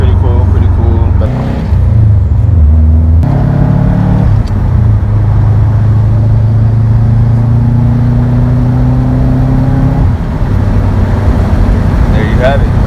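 A Subaru WRX fitted with a new TPS sensor and steering rack, its engine droning steadily from inside the cabin while the car drives, with pitch climbing and dropping as it shifts and accelerates; someone talks over it at times.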